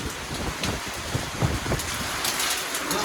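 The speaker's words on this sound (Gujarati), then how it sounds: "કરા પડે હો કરા જોઈ લે કરાનો વરસાદ" A dense wash of heavy rain and hail falls in a summer hailstorm with strong wind, an even, continuous patter with scattered louder hits and no talking.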